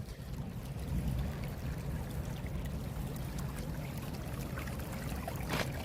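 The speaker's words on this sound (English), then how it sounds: "That water's flowing right through the stone, right into the French drain" Rainwater in a heavy thaw flows through drainage stone into an open French drain, a steady, close rushing trickle that holds at an even level throughout, with no voices.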